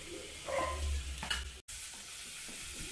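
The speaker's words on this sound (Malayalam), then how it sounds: "നന്നായി ഇളക്കി കൊടുക്കുക." Crushed ginger and garlic are stirred in a hot pan for a fish roe dish, producing a gentle sizzle with brief scraping strokes and a momentary dropout midway.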